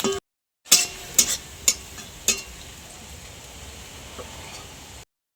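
Sliced onions fry in hot oil in a home kitchen with a soft, steady sizzle, broken early by a few sharp clinks and scrapes of a utensil stirring the pan.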